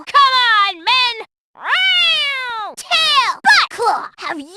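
A La Pucelle Tactics video game character's voice imitates a cat, giving a string of loud, close, drawn-out meows with short gaps and a few quick yowls near the end.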